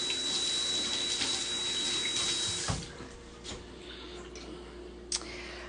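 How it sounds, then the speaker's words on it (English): Tap water runs into a sink at moderate distance while a dirty hand is washed, a steady splashing wash that shuts off partway, followed by a few quiet clicks and taps. "I have to wash my hand because it's covered in dirt from playing fetch."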